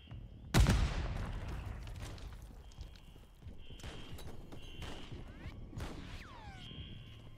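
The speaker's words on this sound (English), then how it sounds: "Where are they shooting me from?" Gunfire during a mansion assault in the Modern Warfare III campaign, opening with a loud close impact and followed by scattered shots, rumbling movement and whistling tones, fairly faint overall.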